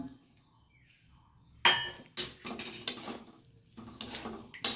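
A utensil stirs jackfruit with yogurt, cashew and almond paste in a pot, producing a few sharp metallic clinks and scrapes in short bursts separated by quiet pauses, close and fairly loud.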